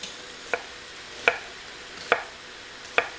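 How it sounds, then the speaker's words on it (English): A knife slices through an onion on a cutting board for a baked spaghetti casserole, giving four crisp, evenly spaced chops close up with no talking. "I'm just going to cut the onion in half. Just follow the lines and slice it."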